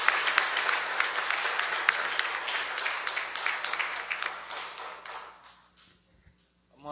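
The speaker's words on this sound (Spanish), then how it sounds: "Un aplauso le damos a la madre." A church congregation at Sunday Mass applauds a mother, brisk sustained clapping that gradually thins and fades out near the end, followed by a brief moment of quiet.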